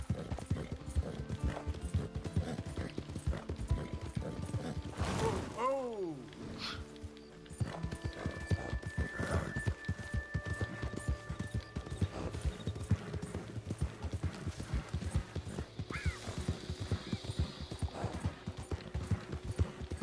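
A horse gallops in a PS4 video game with a fast, continuous clip-clop of hooves that is close and fairly loud, plus a brief neigh in the middle over a background of game music and effects.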